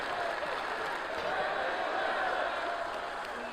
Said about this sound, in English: I haven't even heard that chant before, but they are saying this is wrestling